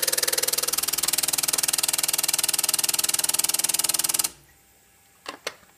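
Megasquirt-controlled fuel injectors pulse rapidly during a flow test into plastic cups, a steady fast mechanical ticking with a hiss of spraying fuel for about four seconds, then it stops, followed by a couple of faint clicks.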